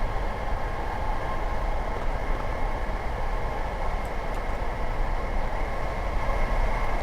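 Class 460 electric train in Train Simulator 2017, running between London Victoria and Gatwick Airport, gives a steady, dense rolling rumble with constant hiss and mid-range drone, loud and unbroken throughout.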